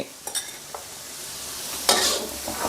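Pork cartilage being stir-fried with oyster sauce, fish sauce, sugar and seasoning powder, steady sizzling broken by several spatula scrapes, one louder sweep near the middle.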